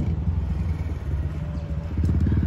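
A motorcycle engine runs steadily close by as the rider gets ready to try some tricks, a continuous low rumble with a slight rise in loudness toward the end.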